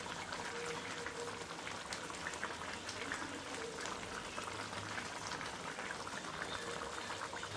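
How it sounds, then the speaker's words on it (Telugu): Tamarind fish curry (fish pulusu) bubbling in a pot, a steady dense boil with continuous crackling and popping bubbles, fairly close and even throughout, no voices. "ఎందుకంటే మంచిగా మరిగిపోయింది కదా, దగ్గరికి వచ్చింది చూడండి"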